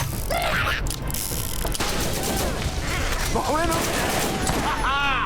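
Scorpio turret blasting away in the game Borderlands, a dense run of rapid shots, clicks and mechanical chatter with other game sounds layered over it, loud and near with no pauses.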